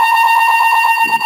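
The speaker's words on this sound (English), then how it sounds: "That's my fire alarm" A fire alarm sounds during a test, a loud steady electronic tone that holds unbroken with high piercing overtones, close and dominant, with a faint rustle underneath near the end.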